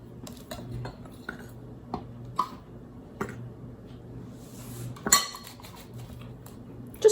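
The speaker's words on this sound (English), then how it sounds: "fold it. Make sure you get the sides incorporated, blend it nicely" A big spoon folds sugar cookie dough in a bowl, giving faint soft scrapes and occasional light clinks against the bowl's sides at an irregular pace, close and quiet with no talk.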